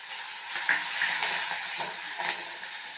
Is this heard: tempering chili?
yes